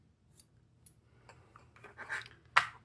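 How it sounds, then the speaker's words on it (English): Scissors snip through yarn ends on a handmade piece, producing a few soft, separate clicks and scrapes, close and quiet, that end in one sharper cut. "Okay, cut the yarn ends."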